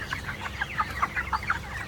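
Broiler chickens about 27 days old cluck steadily on a poultry farm, a dense, close chorus of short, overlapping calls with no talking.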